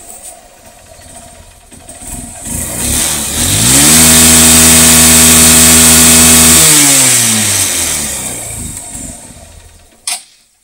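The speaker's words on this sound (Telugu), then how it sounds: "ఈ సిబిజెడ్ ఇంజిన్ సౌండ్ ఒకసారి చెక్ చేద్దాం" A second-hand Hero CBZ Xtreme motorcycle revs up from idle to a loud, sustained roar. The engine holds high for several seconds, then settles back down. A short knock sounds at the end.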